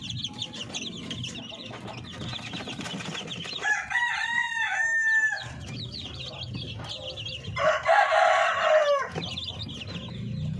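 Darag native chickens, including black Darag, cluck continuously on a Filipino breeder farm, with two clear rooster crows rising above the flock, one near the middle and a louder one later, while someone talks under the birds.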